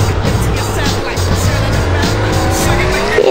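A race car in a video game, with a constant loud engine roar and long, rising tire squeals throughout, partly covered by a player talking over the action.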